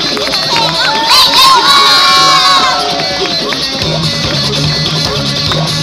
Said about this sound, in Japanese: 盛大な拍手でお出迎えください